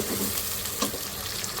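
Sliced onion fries in hot oil in a pressure cooker, giving a dense, steady sizzle close by. A soft stirring scrape comes near the middle, followed by an abrupt cutoff at the end, with no voices.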